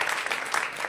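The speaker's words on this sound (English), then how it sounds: "Pre-applause, I like it!" Audience applause at a stand-up comedy show; a brief patter of clapping and crowd noise, ending with a sudden loud thump.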